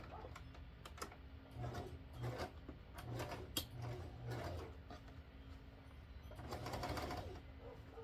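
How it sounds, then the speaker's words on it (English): A sewing machine stitches down a small hem on a fabric bag, with faint, quick mechanical whirring and rattling bursts that stop and start repeatedly under quiet background room noise. "I'm going to sew this down, this little hem, and we'll get going on this."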